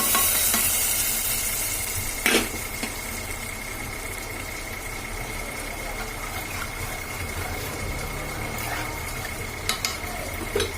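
Garlic and red chili with cumin seeds hiss and sizzle in hot oil for a tadka, a steady broadband fry noise with a few clinks of a spoon stirring in the pan, heard alone without talk.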